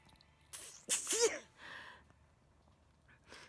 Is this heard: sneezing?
yes